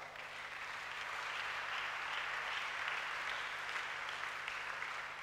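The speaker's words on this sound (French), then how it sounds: "Acclamons notre roi." A church congregation at a Sunday service applauds in a steady, sustained wash of clapping that swells slightly and then eases, heard from a moderate distance without talking.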